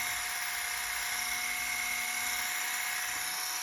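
A MelodySusie PC800G electric foot callus remover runs at its fastest speed, giving a steady, high-pitched whine with a strong tonal hum that holds constant throughout, close and alone with no talk.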